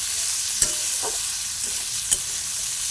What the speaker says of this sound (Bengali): দিয়ে দেবো হলুদ গুঁড়ো একটু দেখো ভালো করে নাড়িয়ে নিতে হবে